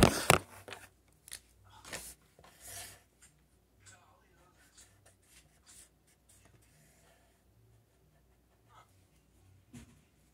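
A pen or pencil drawing on paper in short, close scratchy strokes that come in bursts and then trail off into quieter gaps, with a louder stroke near the end.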